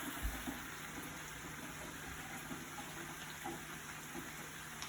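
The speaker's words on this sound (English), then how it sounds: "We're going to drain the pasta water and drain the pasta." Pasta water being drained into a kitchen sink after cooking tomato sausage pasta, a steady broadband rush of pouring water splashing into the basin, continuous and fairly close with no talk.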